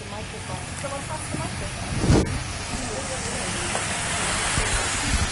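Cumin seeds sizzle in a hot pan with a broad, steady hiss and crackle close by, a brief louder burst partway through, while people talk faintly underneath.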